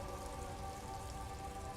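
Steady rain falls in the video game Disco Elysium, a continuous dense patter and hiss at an even level, with no breaks and no voices over it.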